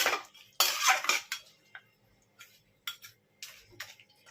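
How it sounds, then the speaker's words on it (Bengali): A spoon stirs a chicken and potato curry in a pot after water is added, giving bursts of close metal scraping and clinking broken by short pauses. "আর একটু আমি জল দিয়ে দিচ্ছি বন্ধুরা, একটু নাড়িয়ে দিলাম"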